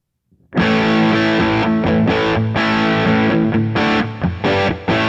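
Electric guitar with overdrive played through a volume pedal rolled back, giving a cleaner, less saturated tone; loud, sustained strummed chords with several rhythmic restrikes, close and alone with no talk.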